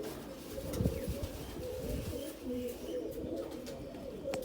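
A pigeon, a pure Punnu-breed hen, coos softly in repeated low, rolling phrases, close by over a faint background hum.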